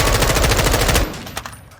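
A VLK-optic rifle in Call of Duty MW2/Warzone 2 fires a rapid, loud automatic burst of about a dozen evenly spaced shots lasting one second, followed by a brief quieter tail and a small click.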